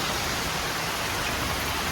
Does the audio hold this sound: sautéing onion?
no